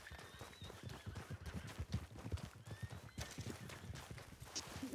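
Horse in the El Rancho RP video game, hooves clip-clopping in a steady running rhythm with occasional whinnies, fairly faint and continuous throughout.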